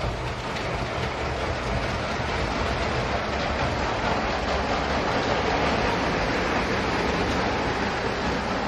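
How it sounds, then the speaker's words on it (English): A model train rumbles steadily along its track with a continuous rattling clatter, fairly close and unbroken throughout. "hopefully the train makes it around a couple more times with no problems"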